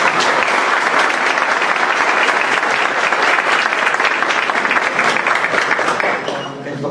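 Sustained audience applause fills a university lecture hall at an event on collective rights and originary nations, steady dense clapping at full volume for about seven seconds, tapering slightly at the end.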